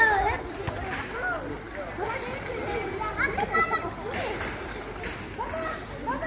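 A child swimming in an outdoor holiday pool in Antalya, with water splashes and scattered splatters mixed among the lively shouts and chatter of playing children throughout.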